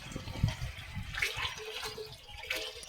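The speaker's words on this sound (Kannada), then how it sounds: "ಈಗ ತೊಟ್ಟಿಗೆ ನೀರು ಬಿಡ್ತಾಯಿದ್ದೀನಿ." Tap water runs into a household tank, a faint, steady splashing flow heard from a little distance.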